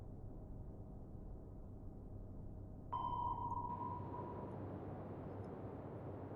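A single sonar ping in the naval video game Atlantic Fleet, a clear pure tone that sounds midway and fades slowly over a constant low underwater rumble.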